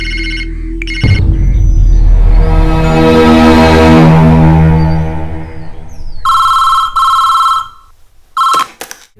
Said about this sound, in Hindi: अरविंद, तुम्हारे लिए फोन है।